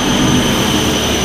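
A twin-turbo 3.7L V6 in an S550 Ford Mustang roars at high revs on a dyno, a loud, steady, dense engine-and-turbo drone without any break across the brief stretch.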